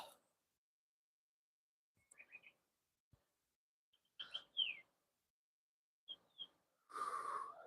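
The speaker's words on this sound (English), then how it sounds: "Just focus on the birds here" Birds chirping outdoors in scattered short calls and tweets, faint and sparse amid near silence, with a brief breathy rush at the end.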